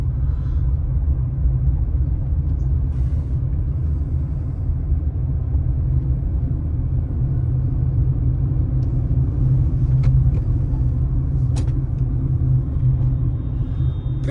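A car in second gear on a driving test route makes a steady, loud low engine rumble and road drone from inside the cabin, unbroken throughout.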